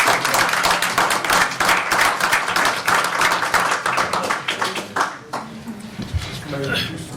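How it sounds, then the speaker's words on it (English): Applause fills a town council meeting chamber as an audience claps for departing employees, a dense steady patter for about five seconds before fading out, with people talking over and after it. "most employees don't get out of here without a round of applause"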